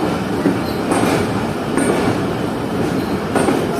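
Zikriya Express passenger train rolling into Kotri Junction, a loud steady rumble of wheels on track with faint squeals and rhythmic clacks, close by and continuous, no talking.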